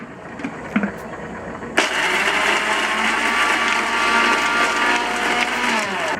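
A food processor roars to life pulsing grated Parmesan for pesto, a loud steady whirring motor that starts abruptly after a few light clatters and runs for several seconds before cutting off.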